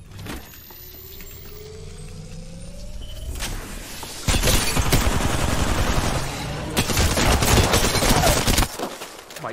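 Gunfire in Apex Legends comes in heavy, rapid automatic bursts: a quieter stretch with faint game tones gives way to loud, sustained volleys of shots that pause briefly and then resume.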